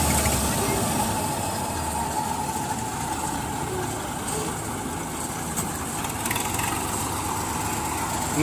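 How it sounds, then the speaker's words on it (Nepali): A tractor engine idles in a paddy field during rice harvesting, a steady low rumble close by that runs without a break for the whole stretch. "अब ट्र्याक्टरलाई अगाडि बढाउने प्लान हो कि यो उतै निस्केर"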